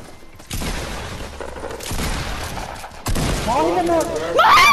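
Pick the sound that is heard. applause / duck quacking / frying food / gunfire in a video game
gunfire in a video game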